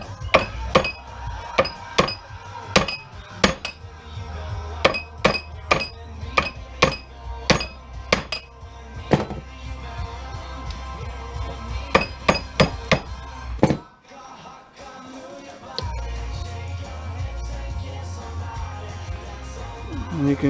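Metal fluorescent light end caps being crushed for scrap, giving repeated sharp hammer-like clanks and metallic clinks in irregular bursts, close and loud, with a quieter stretch near the end.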